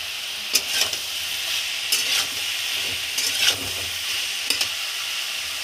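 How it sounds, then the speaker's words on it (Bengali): Shredded cabbage dropped into a hot pan with fish head, frying with a steady loud sizzle while a spatula scrapes and stirs in several distinct strokes, no voices. "এখন আমি এই বাঁধাকপিটা অ্যাড করলাম"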